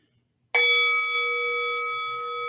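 A meditation bell struck once to open a session rings out with a sharp, clear strike followed by a long, sustained shimmering tone that slowly fades, heard alone in a quiet room.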